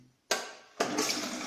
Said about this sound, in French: c'est chasse d'eau à pied